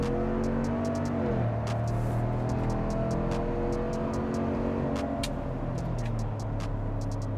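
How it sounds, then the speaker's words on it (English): A Chevrolet Silverado ZR2 pickup truck with a 420-horsepower engine rumbles loudly nearby, its deep idle and revs shifting pitch in steps, with sharp intermittent clicks and taps layered over the steady engine drone. "That's actually pretty loud for a truck."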